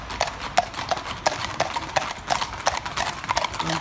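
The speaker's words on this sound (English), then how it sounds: "Going back many years when horses used to be down the high street." Several racehorses, among them Big Orange, clip-clop down Newmarket High Street in a string of horses, the hooves striking the road in a steady, close, overlapping rhythm with no voices.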